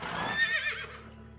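A horse gives one short, bright whinny that trails off, heard close over a soft game backdrop in the medieval strategy video game Knights of Honor 2: Sovereign.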